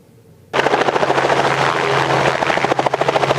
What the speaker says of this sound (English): This helicopter is coming in to kick off Aviation Week